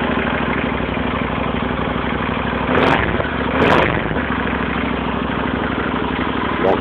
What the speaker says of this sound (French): c'est le bruit moteur, c'est beaucoup moins sexy.